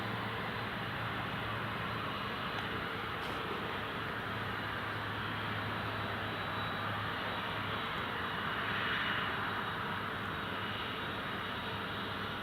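Airliner taxiing at Newcastle International Airport, a steady distant engine roar with broadband hiss holding level throughout, no voices.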